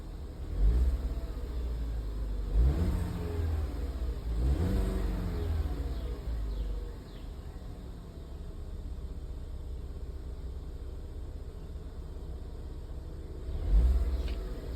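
A Ford Edge engine idling with a loose spark plug and cylinder 3 misfire, a steady low rumble with a few louder surges, heard close and alone.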